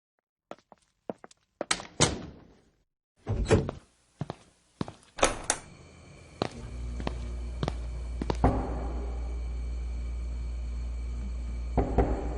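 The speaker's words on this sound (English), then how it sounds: "Here's a knocking indeed." Heavy knocks strike a door in a staged audio drama, arriving in uneven bursts of hollow thuds, loud and close, followed by a low rumbling drone, with no speech.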